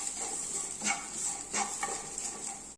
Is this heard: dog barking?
no